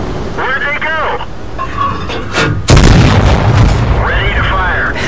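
A tank cannon in World of Tanks fires with a loud, sharp boom, followed by rumbling decay, amid game effects and a voice talking.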